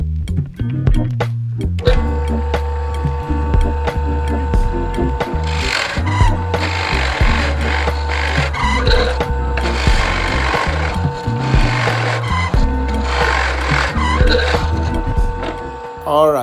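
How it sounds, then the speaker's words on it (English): A Ryobi drill press runs with a loud, low rumbling motor drone and a scraping, slipping whine from the belt sliding as the motor seizes, with irregular grinding and knocking throughout. "You can hear that the belt is sliding, as well as the motor actually seizing."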